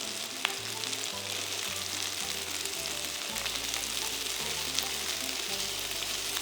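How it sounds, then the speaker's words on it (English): Chicken wings fry in a pan with a steady, dense sizzle that runs through the whole stretch. A low rhythmic bass line sits beneath it, and no one speaks. "Fry these wings for about 3 minutes till the bottom turns golden brown."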